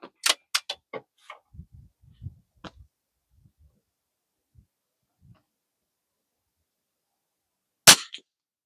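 Rimfire rifle shots with Aguila standard velocity ammunition ring out outdoors: a quick cluster of sharp cracks at the start, followed by faint clicks, then one loud report near the end.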